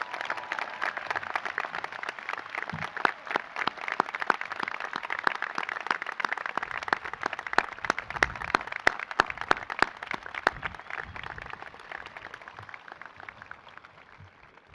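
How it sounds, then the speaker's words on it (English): A graduation audience applauds military veterans in a large hall, with steady, dense clapping from many hands at moderate distance that carries on for about fifteen seconds before gradually thinning out. "I ask everyone to please join me in a round of applause"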